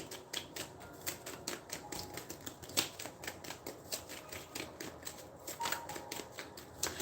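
Tarot cards riffled and shuffled by hand, producing a steady run of crisp, rapid papery clicks and flutters close by, with no talking.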